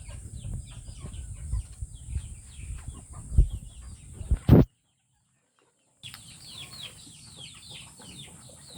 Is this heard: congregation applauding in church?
no